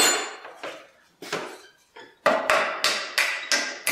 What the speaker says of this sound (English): Nothing like an antique hammer to get the job done